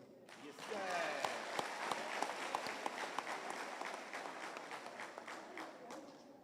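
Applause at an ANC OR Tambo memorial lecture, a fairly faint, scattered clapping from the crowd with a few distinct sharp claps standing out and some voices in the background.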